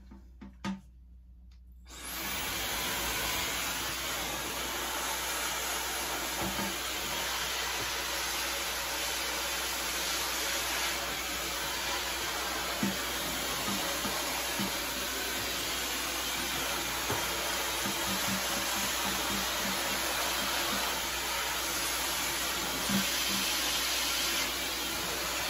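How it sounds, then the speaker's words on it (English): A Hauzzo 1400W ionic hair dryer with a brushless motor switches on and blows with a steady, loud airy roar and high whine, continuing without pause. "I just finished testing out this awesome Ionic hair dryer"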